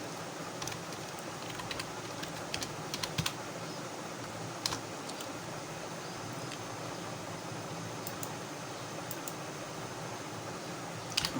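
Computer keyboard keys tapped in short scattered bursts, faint and close, over a steady hiss of background noise with no talking.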